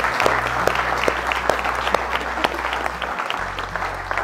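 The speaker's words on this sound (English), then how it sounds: "Everybody give them a round of applause." A room full of people claps steadily at a company milestone celebration, a sustained burst of applause over a low hum, with no talking.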